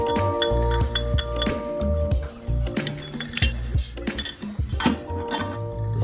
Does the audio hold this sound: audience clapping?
no